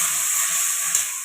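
Onion and green chilli paste sizzling in a hot pan while cooking doi chicken, a steady, close, bright hiss running evenly throughout with no talk.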